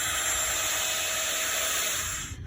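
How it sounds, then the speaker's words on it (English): A drill bit bores steadily into a tool haft, carefully following its curve; a continuous, close, even whine and grind that holds for over two seconds before easing slightly at the end, with no talk. "I'm just letting this drill bit follow this curve"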